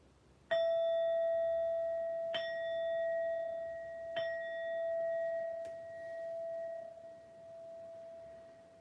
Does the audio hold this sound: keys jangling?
no